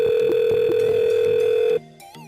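Touch-tone key 1 pressed on an IVR phone line from a PC SIP PBX system: a steady loud tone with a few brief key beeps, then it stops and a quieter, different tone follows.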